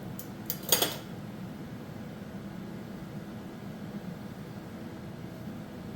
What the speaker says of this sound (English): We're going to give this guy a little flip.